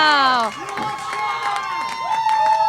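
A crowd at an independent professional wrestling show cheers and shouts, voices rising and falling in a loud, close roar that briefly dips and then swells again, with some voices carrying above the rest.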